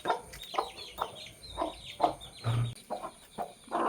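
A hen clucks in short repeated bursts nearby, with faint high peeping of her chicks scattered around the clucks, in a village setting.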